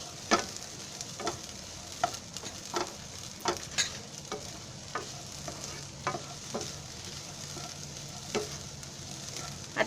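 Onions and potatoes fry in a pan for an oil-free aloo matar bhaji while a spoon stirs them, giving a steady low sizzle broken by repeated sharp scraping clicks at an uneven rhythm, close up and with no talking.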